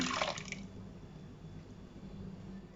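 Ground spice paste for an oil-free vegetable kurma is poured into a pan of onion and tomato, giving a brief wet, squishy splatter at the start that settles into a quiet, soft bubbling.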